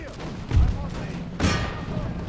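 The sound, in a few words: musket volley gunfire from the video game Imperial Splendour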